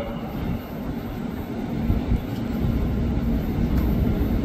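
A KRL commuter electric train arrives at the upper platform of Manggarai station, a broad rumbling roar of wheels and motors that builds gradually and stays loud and close.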